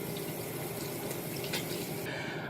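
Tap water runs steadily into a sink while a makeup brush is washed, a continuous close hiss of flowing water with no voices.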